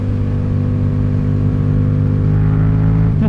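Motorcycle engine running close and loud with a steady low, grunting tone and a slight rise in pitch near the end, no voices.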